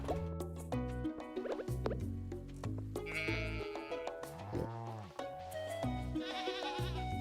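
Sheep bleat in the farm of the Stardew Valley Expanded video game, several wavering calls over steady game music and dripping, plopping effects.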